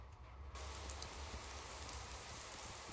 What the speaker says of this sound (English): Now the rain is clearing up.